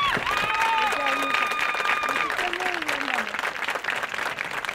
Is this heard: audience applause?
yes